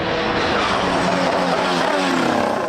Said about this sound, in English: Here comes Lewis Hamilton. Hamilton's going to get past Max Verstappen